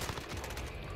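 Rapid pistol gunfire from a video game, a short dense burst of sharp shots with no pause.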